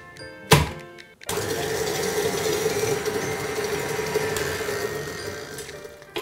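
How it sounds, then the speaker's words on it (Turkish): An electric mixer whirs steadily at close range, beating an egg into creamed butter and sugar for chocolate cupcake batter. A short clunk comes first, then a brief pause before the motor starts and holds its hum. "Şimdi yumurtamı ekliyorum ve yumurta da iyice karışıncaya kadar tekrar çırpıyorum."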